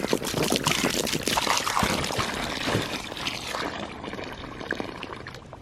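Fresh water pours into a ducks' water dish, a close, splashing gush that slowly thins into a lighter trickle as the flow tapers off.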